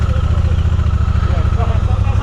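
A Triumph motorcycle engine idles with a steady, throbbing low pulse that continues without a break, loud and close, while someone talks over it.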